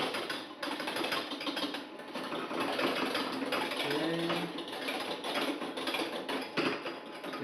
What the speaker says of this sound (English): you want to whisk it very rapidly, so you get nice bubbly